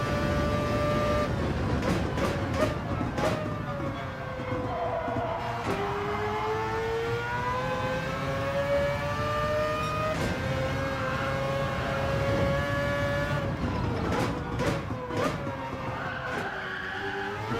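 Mazda race car in Gran Turismo 7 racing in another car's slipstream, its engine droning steadily and shifting pitch as it accelerates, with tire squeal and brief sharp bursts, loud and continuous throughout.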